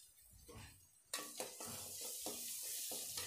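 Nut, ginger and garlic paste frying in oil for chicken biryani, a soft sizzle broken by repeated scraping stirs of a spatula against the pot, close and fairly quiet.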